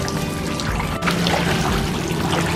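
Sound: pouring bubble soap into pool water

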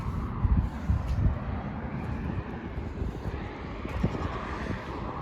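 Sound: strong wind

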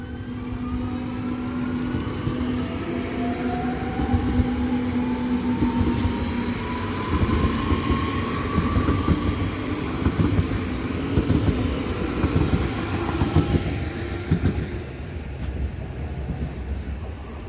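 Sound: RS2 Regio S-Bahn train departing

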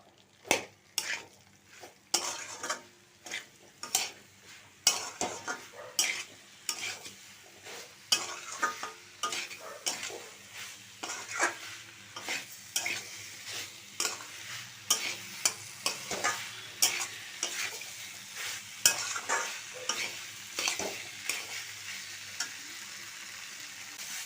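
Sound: sautéing kohlrabi and potato curry in a pan

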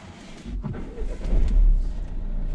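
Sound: car engine starting and revving

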